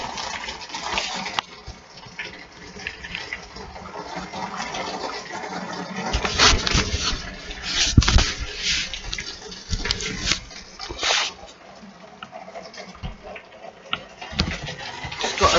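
Storm rain drips and patters through an open window, an irregular wet spattering with louder bursts of splashing and gushing water scattered throughout.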